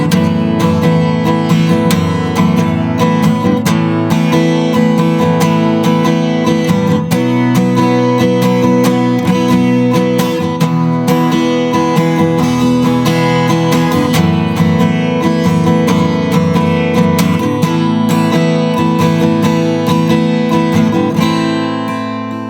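Guitar chords strummed in a steady rhythm, loud and close, with chord changes ringing out continuously and no voices.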